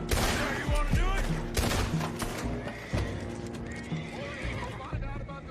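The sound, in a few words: horses neighing and galloping in video game Red Dead Redemption 2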